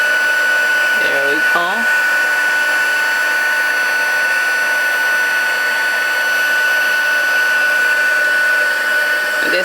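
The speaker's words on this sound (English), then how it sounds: "And you need your heat embossing tool. Go ahead and activate that embossing powder." A heat embossing tool blows hot air steadily onto embossing powder, a constant loud whirring hum with a high whine, while a person speaks briefly near the start.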